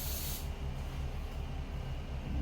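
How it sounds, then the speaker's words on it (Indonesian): An aerosol can sprays grey epoxy primer onto a motorcycle body panel, a short loud burst of hissing spray at the start, then a steady lower hiss and hum continuing close by. "Kalau sudah beres ini kita semprot di bagian luarnya. Untuk yang kita semprotkan ini primer grey atau epoxy."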